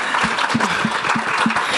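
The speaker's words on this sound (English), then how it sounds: "we can clap for the mayors" Audience at a political outlook panel claps for the mayors, a loud crowd applause with a rhythmic pulse of stronger beats roughly every third of a second, as if many are clapping in unison.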